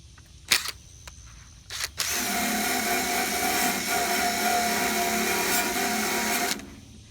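A hose or pressure sprayer hisses steadily against a 16-foot maple log for about four and a half seconds, starting after a couple of brief clicks, fairly loud and close, then cutting off.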